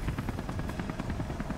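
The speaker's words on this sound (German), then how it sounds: "Ich kann ja den Helikopter runterholen, wenn es schon geht." A helicopter in the video game Beyond: Two Souls, its rotor thumping in a fast, steady rhythm, loud and close with no voices over it.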